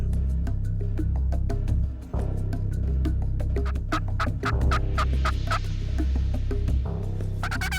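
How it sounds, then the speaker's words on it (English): Repeated wild turkey gobbles ring out in bursts over a steady low hum, some close and loud, others farther off, overlapping across the whole stretch. "there are turkey all around"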